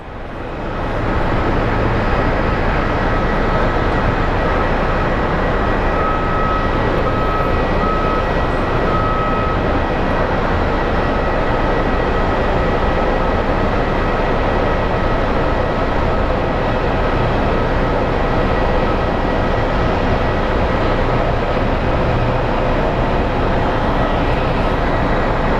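A passenger flight from San Antonio arrives at Phoenix Sky Harbor International Airport: a loud, steady jet roar fills the whole stretch without letup, and no voices are heard.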